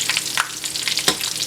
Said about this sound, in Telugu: వీటిల్లో ఉండే నీచు వాసన పోవడం కోసం మాత్రమే మనం వేయిస్తున్నాము.